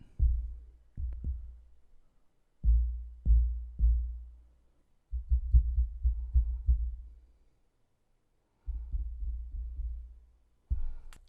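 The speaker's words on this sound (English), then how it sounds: "we're going to hit my boom arm here to see what kind of" Low dull thumps from striking a microphone boom arm to test the Tonor TC-777 shock mount, a series of muffled knocks in loose clusters with short decays and pauses between, close and without talk.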